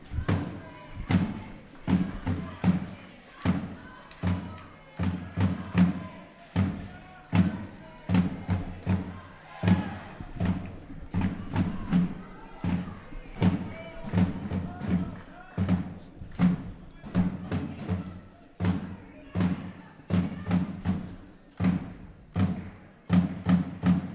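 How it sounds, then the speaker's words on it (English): At a judo Grand Prix in Düsseldorf, a German crowd keeps up steady drumming and thumping, with rhythmic booming beats repeating throughout under general arena noise. "German crowd trying to get behind Sebastian Seidel with the incessant drumming and thumping away"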